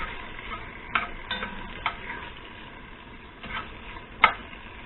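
Kale fries in a heavy 2-quart saucepan with a soft, steady sizzle, broken by a few sharp stirring clinks and scrapes against the pan.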